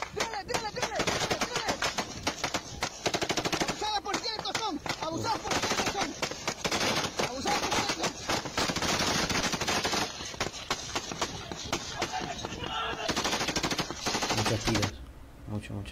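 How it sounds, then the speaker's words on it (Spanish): Sustained gunfire from a shootout between the Mexican army and criminals, dense bursts of automatic fire and rapid shots rattling almost continuously for the whole stretch, loud and close, then dropping off abruptly near the end. "Muchos tiros ya."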